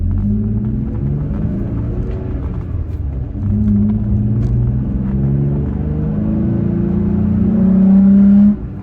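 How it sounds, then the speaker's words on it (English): A Toyota Tacoma pickup truck accelerates along a road toward highway speed, its engine rumble climbing steadily in pitch through several gear stages, loud and continuous from inside the cab, ending with a sudden drop. "I don't hear anything other than normal truck noise"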